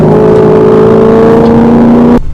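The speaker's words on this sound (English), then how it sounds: "the engine sounds like this" Maserati GranTurismo engine revving loudly and close, a sustained rising tone that holds steady and then cuts off abruptly near the end.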